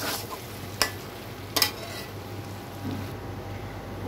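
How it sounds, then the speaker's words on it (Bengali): Broiler chicken pieces being stir-fried (bhuna) in a pan for an achari stew: a steady, soft sizzle with two sharp spatula knocks against the metal, no voices. "এটা মোটামুটি হয়ে যাবে আমার মুরগির মাংস কষানো।"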